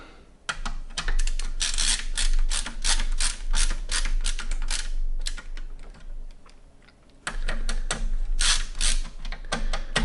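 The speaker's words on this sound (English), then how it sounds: "And then tighten down the AIO." Screws being tightened to mount an AIO liquid cooler inside a compact Lian Li A4-H2O PC case, with close clicking, ratcheting screwdriver sounds in two long runs separated by a short pause.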